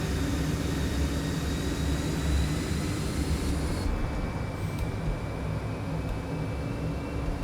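Citation X jet engines in Microsoft Flight Simulator 2024 with the FlightFX add-on give a continuous broad roar that holds steady, then shifts to a slightly duller tone partway through, with no talking.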